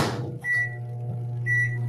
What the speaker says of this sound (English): So we're gonna put this in the microwave for about a minute or 2.